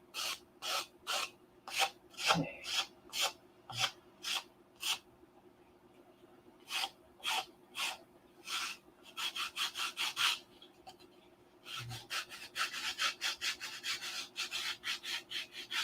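A model aircraft stabilizer being sanded by hand with 80 grit sandpaper, close rhythmic rasping strokes in quick bursts with short pauses, some passes faster and denser than others.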